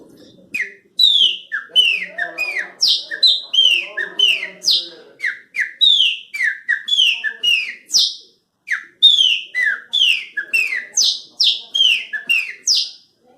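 A man whistles an imitation of the song of the pássaro preto, a blackbird, in a long run of clear, close, sliding and warbling phrases that repeat rhythmically with short gaps between them.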